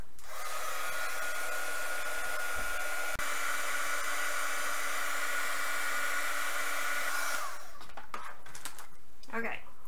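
A heat embossing tool blows hot air onto card, making a loud, even whooshing roar that holds steady for about seven seconds and then cuts off, followed by light handling clatter.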